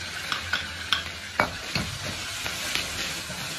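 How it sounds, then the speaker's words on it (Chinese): Scallion and ginger stir-frying in hot oil with Pixian bean paste, a continuous sizzle with sharp spatula scrapes and clacks against the wok at irregular intervals, close and moderately loud. "放入葱姜，"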